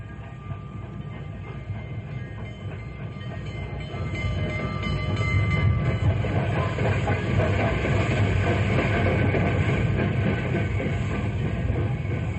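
A train rumbles in steadily, its low rolling noise growing louder and closer as it pulls up, with no voices heard.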